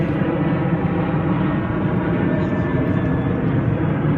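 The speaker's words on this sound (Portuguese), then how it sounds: "agora um avião. Vamos esperar o avião passar?" Airplane passing overhead outdoors, a loud, steady low engine roar that fills the whole stretch without fading, with people talking underneath.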